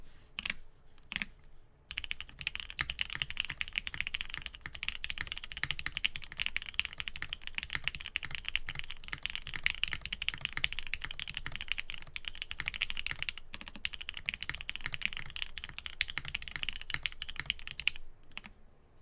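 Steady, continuous typing on a Keycult 2/65 mechanical keyboard, dense rapid key clacks close to the microphone with brief pauses, no talking.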